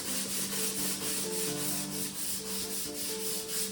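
Rust being scrubbed off an old draw knife, a continuous close abrasive rubbing with a steady back-and-forth pulse and faint squeaky tonal edges, no speech.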